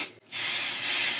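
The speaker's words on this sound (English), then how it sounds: "And then I'm going to spray" Basting adhesive sprays from an aerosol can onto quilt fabric: a short puff, a brief gap, then a loud, steady hiss held for about a second.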